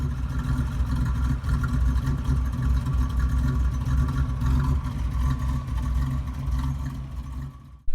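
A 1984 Buick Grand National engine idles roughly and choppily, a loud, close, uneven low rumble with a lumpy rhythm that holds steady throughout.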